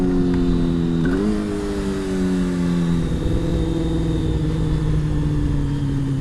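A motorbike engine holds a loud, steady drone during a wheelie, rising briefly in pitch near the start and then easing down. It is close and continuous, with no talking.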